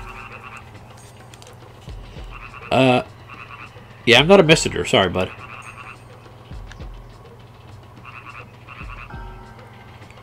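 Frogs croak in Frog Village in the game Grandia, with a pair of loud, rapid croaking bursts among quieter background chirps while a person talks over the scene.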